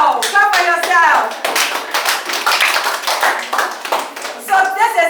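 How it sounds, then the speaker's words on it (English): Children clapping together in a classroom at an international school, a dense burst of hand claps lasting several seconds with excited kids' voices and chatter mixed over the top. "Clap for yourself."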